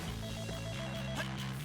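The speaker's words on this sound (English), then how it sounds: "Phone. This is new. Pick it up." A telephone rings in the Hi-Fi Rush video game, a steady electronic ring tone that holds a repeated pitch under music-like background sound.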